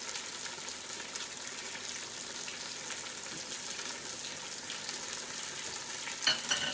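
BBQ bacon cheddar burgers frying in a pan give off a steady, close sizzle and crackle that holds at an even level throughout, with a small clatter near the end and no talking.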